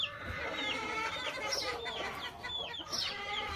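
A Kelso Cecil Davis gamecock rooster clucks and calls in short, close bursts over steady background noise, with no talking.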